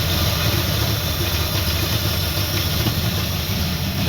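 Ford Falcon Fairmont engine idling roughly after fuel filter changes, a loud, steady low rumble running continuously close by with no talking.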